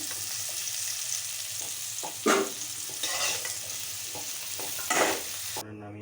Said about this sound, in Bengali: এইরকম ভাজতে হবে, ভেজে এগুলোকে তুলে দিতে হবে